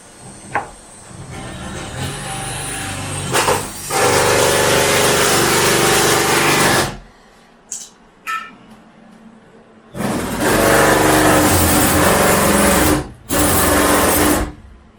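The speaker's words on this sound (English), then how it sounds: "sounds like you're going through concrete there, Chris" A power drill bores into hard material in loud, sustained whining bursts, with short pauses between and a couple of brief taps in the gaps.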